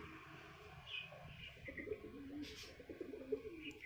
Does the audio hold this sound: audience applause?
no